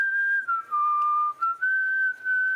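A single clear whistled tune, sustained notes gliding up and down with short breaks between phrases, close and loud with no other sound.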